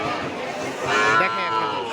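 Cattle lowing close by, a drawn-out moo over crowd noise and people talking at a busy livestock market in light drizzle.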